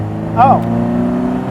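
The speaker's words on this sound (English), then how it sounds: "Needless full throttle acceleration" A 1966 Datsun Roadster engine drones steadily under full-throttle acceleration, a loud, close, harmonic hum with a brief exclamation from an occupant over it.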